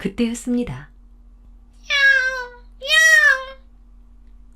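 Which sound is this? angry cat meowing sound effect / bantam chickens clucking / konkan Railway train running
angry cat meowing sound effect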